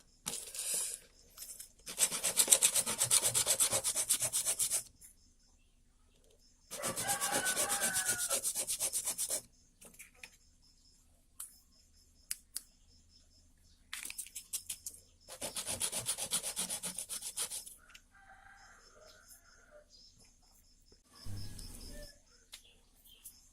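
A homemade engraving machine part built from a Tamiya toy motor being hand-sanded in several separate rough scraping bursts, close and fairly quiet, with brief pauses between them.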